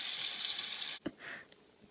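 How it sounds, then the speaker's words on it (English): Steady hiss of running tap water during handwashing before baking cookies, loud and continuous for about a second, then cutting off abruptly and leaving a few faint clicks and splashes. "Our first step here is to wash our hands before we do anything else."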